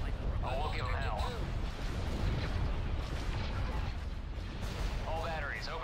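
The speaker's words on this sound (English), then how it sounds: "All batteries, open fire." Cannon batteries boom from a ship in a naval video game battle, a sustained rumbling barrage of heavy low blasts rolling continuously under shouted commands and game voices.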